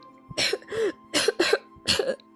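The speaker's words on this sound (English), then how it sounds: "Nightpaw's only response was a fit of coughing." A fit of harsh coughing, five loud bursts in quick succession with short gaps, close by and without talk.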